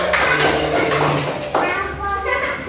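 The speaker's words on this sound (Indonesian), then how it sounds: "Ya, tepuk tangan buat anak-anak." Children in a primary classroom clap together in quick bursts of hand claps, mixed with their chanting, sing-song voices close by.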